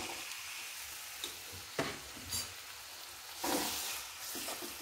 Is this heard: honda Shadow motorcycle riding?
no